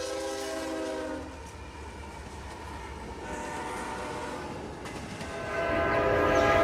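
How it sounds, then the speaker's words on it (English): An Amtrak Auto Train led by three locomotives rumbles past in Folkston, Georgia, its horn sounding in long loud blasts at the start and again near the end over heavy rolling rail noise. "Here we have the Amtrak auto train again with 3 units on the point."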